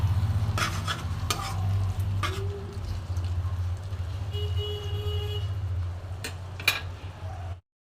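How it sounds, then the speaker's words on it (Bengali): Fried vegetables are stirred into a chicken and mixed dal in a pan, giving repeated scraping spoon strokes over a soft sizzle and a steady low hum, with a few clinks near the end. "সেগুলো এর মধ্যে আমি দিয়ে দেব, দিয়ে আবারও কিছুক্ষণ আমি এটা কষবো"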